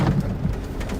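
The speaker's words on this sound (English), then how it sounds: "Yeah, big time hail coming in here, guys." Hail from a supercell storm in Kansas pelts the hood and body of a car in a steady, dense clatter, with low rumbling and washing storm noise underneath and no voices.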